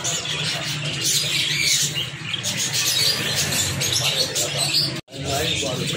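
Pet parrots, including an Amazon, squawk and chirp in a busy indoor setting, harsh calls repeating over steady background noise with a brief break near the end.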